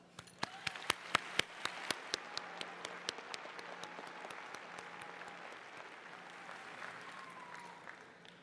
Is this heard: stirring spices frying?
no